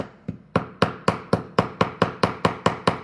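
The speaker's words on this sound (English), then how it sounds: "The goal is to get in there and be able to hammer this arc" Flat chasing hammer striking a wire arc for a bracelet, about eleven sharp metallic taps in an even, steady rhythm, close and clear with no talk.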